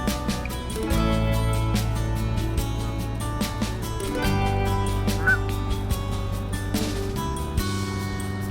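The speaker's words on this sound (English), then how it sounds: "Passing through a flock of Canada geese," Flock of Canada geese at Diversey Harbor in Chicago, honking repeatedly and overlapping from many birds at once, loud and close, a busy chorus of calls continuing throughout.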